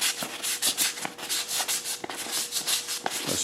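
Sandpaper of 400 grit rubbed by hand over a pitted front brake caliper from a 1975 Honda CB550F, a close, steady rhythm of short back-and-forth scraping strokes with no talking.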